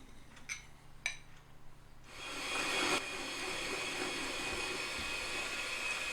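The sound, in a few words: whisking butter into bun mixture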